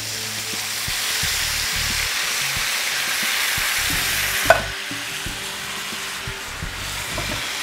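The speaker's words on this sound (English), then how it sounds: "this is some diced tomatoes with basil, garlic, and oregano. We're just gonna dump it right in there." Diced tomatoes with basil, garlic and oregano dumped into a hot pan, a steady loud sizzle and frying hiss with a brief clatter midway, no voices.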